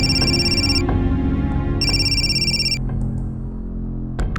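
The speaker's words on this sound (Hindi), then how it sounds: "आ गया फिर से फोन।" A phone ringtone rings in two loud electronic bursts with a pause between, over a constant low hum.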